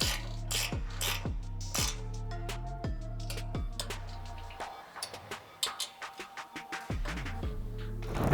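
A ratchet clicks in rapid repeated bursts while bolts are tightened on a CTX Extreme Duty front bumper being bolted onto a Tesla Cybertruck, with short pauses between strokes and a faster run of clicks near the end.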